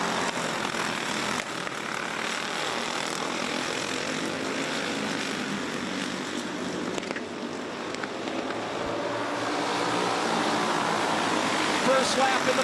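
Racing karts roar off at the green flag start of a 15-lap Masters feature at a karting speedway, a dense, steady engine drone from a pack of machines, with a commentator talking over it.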